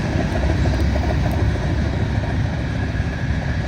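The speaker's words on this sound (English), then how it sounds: "Train's heading toward Andover and Lawrence" A CSX freight train approaches Ballardvale station in Massachusetts, heading toward Andover and Lawrence: a steady, loud rumble of rolling wagons and engine drone that stays constant throughout, with no talk.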